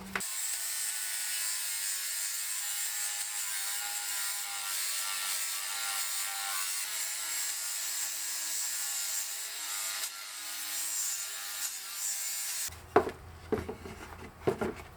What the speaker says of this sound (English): I'm going to take off a little bit of wood here, maybe 1 millimeter or so